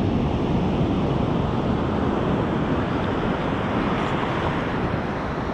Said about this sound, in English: the waves aren't as big as Manhattan Beach